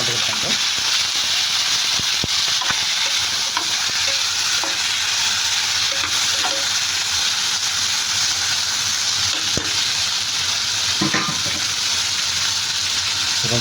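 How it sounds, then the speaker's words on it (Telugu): Chopped tomatoes fry in hot oil in a pan for chutney, making a loud, continuous sizzle close up, with intermittent scraping stirs and no talk over it. "ఇది ఒక 2-3 మినిట్స్ బాగా ఫ్రై అవునండి ఫ్రెండ్స్"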